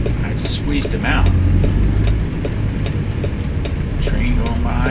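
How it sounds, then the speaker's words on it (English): A passing freight train in American Truck Simulator rumbles by as a steady, loud low roar with faint rail clatter, heard from the road alongside truck engine noise, with talking over it. "Train going by."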